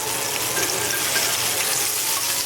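Osso buco meat searing in a hot pan, giving a loud, steady hiss of sizzling fat that stays even throughout, with no voices over it.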